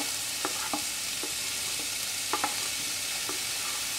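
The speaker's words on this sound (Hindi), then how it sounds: "देखिए आवाज आने लगी है घी की, घी गर्म हो गया है।" Grated bottle gourd hitting hot ghee in a pan, a steady frying sizzle with a few sharp stirring clacks of a spoon against the pan, close and moderately loud, no talking.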